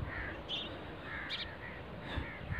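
Several harsh bird caws ring out faintly at a distance at sunrise in a Pakistani village, over a soft outdoor background, with a few scattered calls spaced irregularly.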